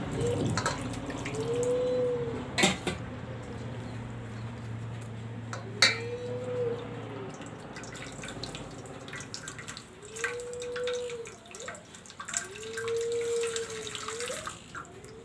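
Tap water runs and splashes fairly quietly while rinsing sweet-making curds, with occasional sharp clinks of a vessel and a few soft tonal sounds in the background.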